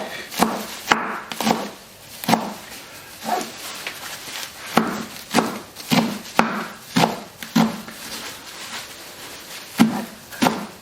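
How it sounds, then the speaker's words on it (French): A knife chops fresh nettles small on a board for pesto, a dozen or so sharp, close knocks in an irregular rhythm with short pauses, no voices. "Donc après on va les couper bien, on va les couper petits."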